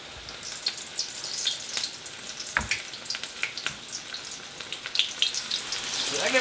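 Battered chile rellenos fry in a pan with a steady, close sizzle and scattered crackles and pops, the spattering growing a little louder toward the end.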